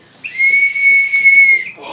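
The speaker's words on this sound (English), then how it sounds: "Blow the whistle." A party whistle blown at a birthday party in a decorated basement, giving one steady, shrill tone that holds for over a second, close and clear.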